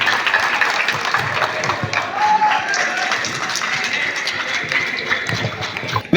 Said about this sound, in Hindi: जोरदार तालियां 12C के लिए।